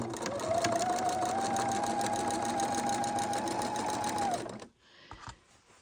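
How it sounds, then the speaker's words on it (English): A sewing machine stitches a border onto a patriotic quilt, giving a fast, even mechanical whir with a thin steady whine for about four seconds before it stops, leaving faint handling noises. "today we are sewing on our 4th of July or Patriotic Quilt"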